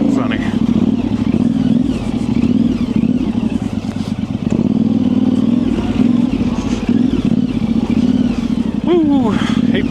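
A Yamaha Tenere 700 motorcycle rides narrow single-track trail through trees, its engine droning steadily and close throughout with brief revs and clattering over rough ground.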